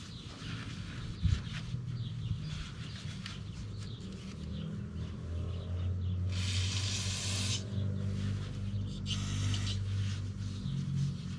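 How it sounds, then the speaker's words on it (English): Two bursts of aerosol cleaner sprayed onto the valve cover of a 2002 Nissan Altima, each a broad hiss lasting about a second and a half, close up over a low steady engine-bay rumble. "And we're going to spray some of this on here."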